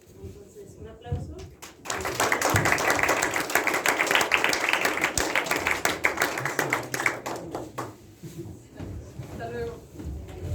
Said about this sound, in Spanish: Entonces, un aplauso.